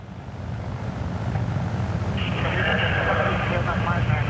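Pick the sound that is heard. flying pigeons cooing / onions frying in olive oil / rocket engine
rocket engine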